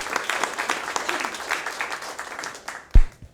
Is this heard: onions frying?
no